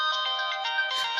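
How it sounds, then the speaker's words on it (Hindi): A loud electronic ringtone plays, a bright repeating melody of tones pulsing steadily without pause, close and clear with no voices. "क्या खतरनाक रिंगटोन है भाई तेरी"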